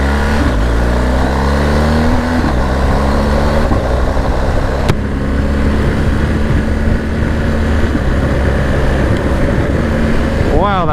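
A 2022 BMW R1250GS motorcycle engine revs up through quick-shifter gear changes, with rising engine tones stepping in clear increments and close, loud wind and road noise throughout.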